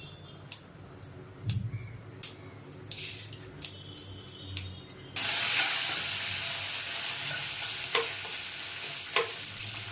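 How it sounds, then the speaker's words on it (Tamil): Mustard seeds and curry leaves hit hot oil for mango rice, starting with scattered crackles and pops before a loud, steady sizzle takes over halfway and continues with occasional spits, close by and with no talk. "அதுக்கடுத்து வந்து கடுகு, கருவேப்பிலை ரெண்டையும் போட்டுக்கலாம்"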